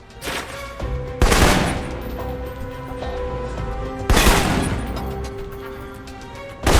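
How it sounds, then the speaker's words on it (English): Assault rifle fire in the video game Alpha Protocol, with loud, sharp bursts of rapid shots separated by gaps and a few single cracks, close and echoing. "For long-range encounters, the assault rifle's the key. It's accurate, powerful."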